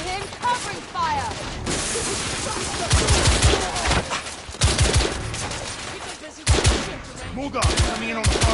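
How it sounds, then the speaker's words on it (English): Sustained automatic gunfire and rapid shots ring out in a lobby firefight in the video game The Order: 1886, coming in loud bursts separated by short lulls, with voices shouting over the shooting. "Give him covering fire!"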